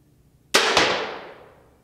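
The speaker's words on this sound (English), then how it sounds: "This was shot number two at 20 yards with the Wicked Ridge M370" A Wicked Ridge M-370 crossbow shot at 20 yards: a sharp crack as the bolt releases, then a quick second impact on the target, with a bright decaying ring trailing away after silence.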